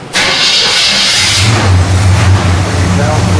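A car's engine cranks and catches, then revs and settles into a loud, steady rumble, heard close up during a drag-racing safety inspection.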